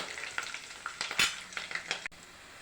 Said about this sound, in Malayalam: കറിവേപ്പില ഇട്ട് കൊടുക്കാമേ. ഇളക്കി കൊടുക്കാം.